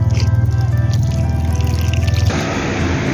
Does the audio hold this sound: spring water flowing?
yes